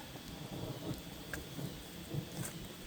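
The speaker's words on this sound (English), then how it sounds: "It's starting to rain." Steady rain patters across the whole stretch, with soft low rumbles underneath; a continuous, even wash of drops with no voices.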